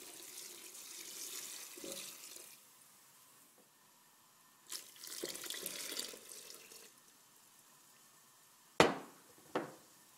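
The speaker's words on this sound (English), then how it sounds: "Now I'm going to add quite a bit of water here." Water pours from a tap into a pot of sauteed soy dish in a kitchen, arriving in a few separate bursts of rushing splashes, then two sharp clatters near the end.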